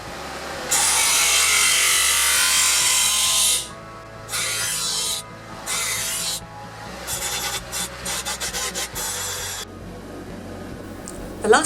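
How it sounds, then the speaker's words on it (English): A disc grinder and grinding wheel shape the tang of a santoku knife, giving a loud, harsh abrasive hiss that runs for several seconds and then breaks into shorter bursts of grinding. "Steve made a lot of sparks with his disc grinder and his grinding wheel as he refined the shape of the tang."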